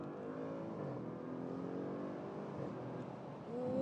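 A 560 horsepower car accelerating hard out of a hairpin turn, a steady rising engine drone heard from inside with no talking, swelling slightly louder at the end.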